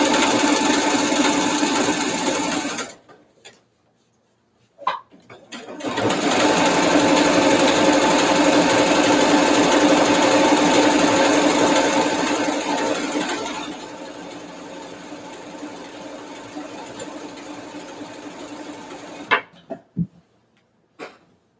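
A sewing machine stitching jeans runs in a steady whirring burst for several seconds, then slows to a quieter hum, with a few clicks and knocks around it.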